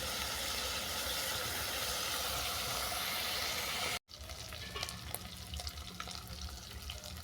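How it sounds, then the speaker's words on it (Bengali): Shrimp and small til punti fish fry in hot oil with a dense, loud sizzle for about four seconds, then it cuts to a quieter stretch of light clinks and scattered kitchen sounds. "চিংড়ি মাছ আর তিলপুটিগুলো পরিষ্কার করে ভাজা হয়ে গেছে"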